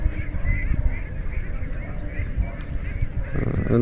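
A crowd of farmed ducks honks and quacks loudly and continuously, close and dense, on a duck farm where birds have been dying from disease.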